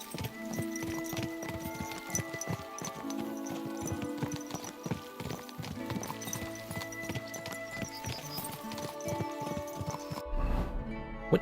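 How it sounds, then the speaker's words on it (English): Horse hooves clip-clopping at a canter in Kingdom Come Deliverance II, a steady rolling beat of hoofbeats that runs continuously for several seconds, moderately quiet, with no speech. "We are sort of cantering along for some reason."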